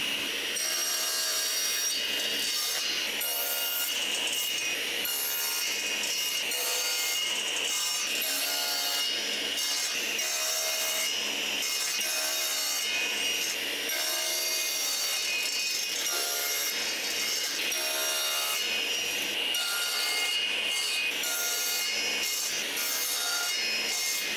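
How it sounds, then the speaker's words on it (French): A hand saw cuts through wood in steady back-and-forth strokes, the rasping rhythm repeating evenly and close up throughout. "pour couper mon bois, j'utilise une scie, bien sûr"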